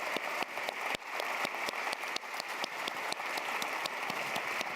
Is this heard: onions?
no